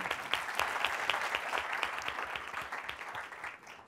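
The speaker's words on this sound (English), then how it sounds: "Let's give them a warm applause." Audience at a tech talk clapping steadily for a few seconds, a dense, moderately distant round of applause that tapers off toward the end.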